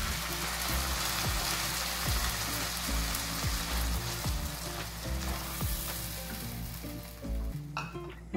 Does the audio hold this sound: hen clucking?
no